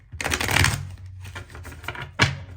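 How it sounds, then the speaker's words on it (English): Tarot cards are riffle-shuffled up close: a dense papery flutter for about half a second, a softer rustling stretch, then another short sharp burst of cards snapping together, with no talking. "Just want to shuffle."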